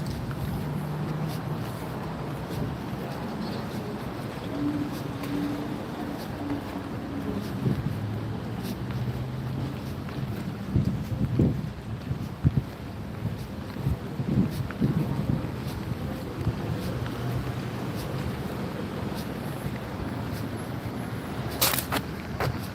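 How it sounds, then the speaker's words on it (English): Wind gusts outdoors on a sunny, breezy day, buffeting the microphone in a steady low rumble with occasional stronger bursts, fairly faint overall. "A little breezy, but it's all right."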